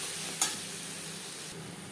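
A tomato, ginger and green chili paste fries and gets stirred in a pan, giving a steady close sizzle with a brief clink of the utensil near the start.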